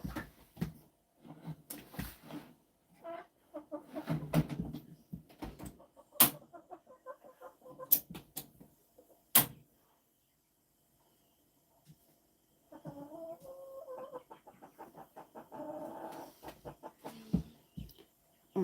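Chickens cluck and squawk indoors inside a house, intermittent bursts of fowl chatter with sharp clicks and knocks, a quiet gap midway, then a denser run of clucking.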